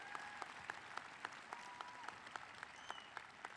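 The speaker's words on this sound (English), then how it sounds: "And I think that deserves a round of applause." Graduation crowd at Parrish Community High School applauding, a steady wash of clapping from a large audience with sharper individual claps standing out, fairly distant and even throughout.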